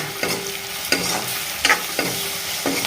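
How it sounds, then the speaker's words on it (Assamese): Pork pieces fry and sizzle in a hot pan with a steady, close crackle, and a spoon scrapes and stirs them at regular beats about once every second. "এতিয়া মই এইখিনি ধুনীয়াকৈ ইয়াৰ লগত ভাজি ল'ম।"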